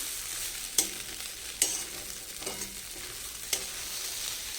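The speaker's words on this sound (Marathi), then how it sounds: "आता ह्याच्यावर थोडासा लिंबू पिळायचा आहे आणि छान असं अलगद हाताने परतून घ्यायचे आहे." Gentle stirring of cucumber poha in a pan after a squeeze of lemon, with a faint sizzle under a few soft, sharp scrapes of the spoon against the pan. No one speaks.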